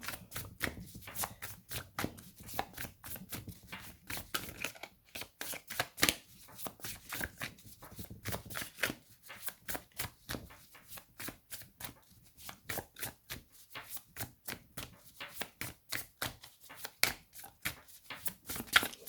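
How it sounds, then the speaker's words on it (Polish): Tarot cards are handled and shuffled close by in quick, papery riffling bursts that repeat in an uneven rhythm, fairly quiet and with no talk. "Więc pokazuję karty."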